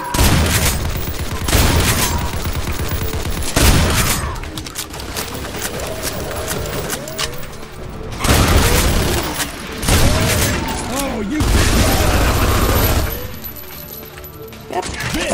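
An enemy's chain gun in the shooter game Insanity's Requiem fires in long, loud, rapid bursts separated by short pauses, while someone talks between and over the volleys.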